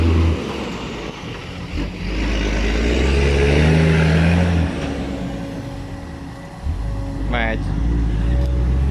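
A Hino Victor 500 dump truck, loaded with mud at a rainy reservoir dredging site, pulls away with a loud diesel roar that swells, eases, then picks up again, a voice talking faintly under it.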